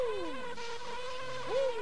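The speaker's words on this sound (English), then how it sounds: "Get away, bees." Cartoonish bees buzzing in Banjo-Kazooie, short whiny drones sweeping up and down in pitch over a quiet game soundtrack.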